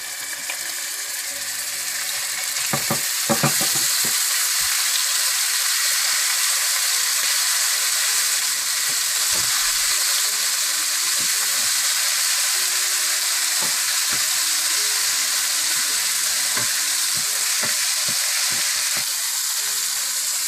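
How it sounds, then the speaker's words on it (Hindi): Ground ginger and garlic paste sizzles steadily in hot oil, a dense continuous frying hiss with occasional stirring clinks and scrapes from the pan. "इसमें आप पिसा हुआ अदरक लहसुन डालकर थोड़ा सा भून लें।"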